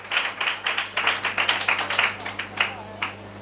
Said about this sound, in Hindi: तो आए जोरदार तालियां बजाएं इस बात के लिए।